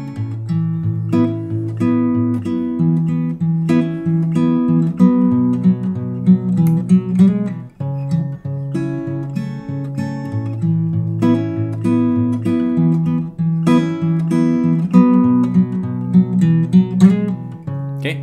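Acoustic guitar plays a picked riff with a steady D bass note on the fourth string under ringing chord tones, close and clear, repeating in a continuous pattern without talking.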